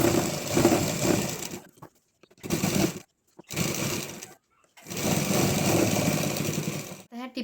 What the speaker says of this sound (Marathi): दोन टिपा मारून घ्यायच्या.